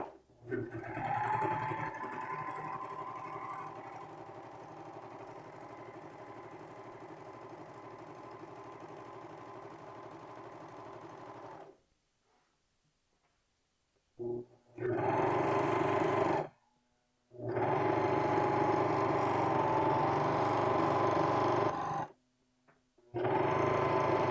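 A serger sews a finished edge along a t-shirt hem with a loud, rapid mechanical whir. It runs steadily for about twelve seconds, goes quiet, then starts and stops in several more long runs.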